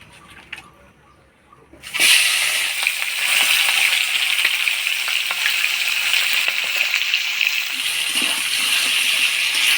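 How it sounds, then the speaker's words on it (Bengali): Fish head drops into hot oil in a pan and erupts into a loud, continuous sizzle that holds steady and bright after a quiet start. "তেল গরম হয়ে গেছে, এবার মাছগুলা দিয়ে দিব।"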